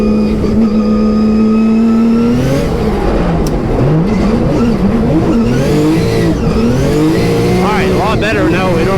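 A 700 hp Nissan 350Z is driven on the E-Town track in New Jersey, its loud engine revving up and down in rising and falling sweeps, close up and continuous, with hints of tire squeal.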